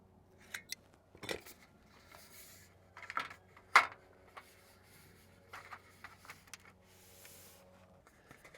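A metal gutter piece is cut to size with snipping tool strokes: a handful of sharp, quiet crunching snips spaced irregularly in an otherwise hushed space.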